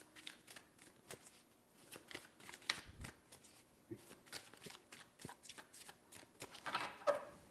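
Tarot cards being shuffled by hand in a series of quick soft riffles and flutters, close and fairly quiet, with no one speaking.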